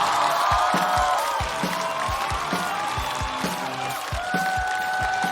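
Audience applause and cheers welcoming comedian Liu Kui onto a stand-up comedy stage, a dense continuous wash of clapping from a large crowd, with music playing underneath.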